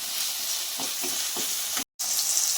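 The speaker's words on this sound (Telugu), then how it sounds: "ఇప్పుడైతే టమాటా బాగా వేగిందండి" Tomatoes frying in a pan for a ridge gourd milk curry, a continuous close hiss of sizzling with a few soft stirring knocks and a momentary cut to silence near the end.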